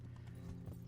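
Horse hooves clip-clop in the video game Kingdom Come: Deliverance. The steady walking rhythm is quiet and sits under a low, droning ambience.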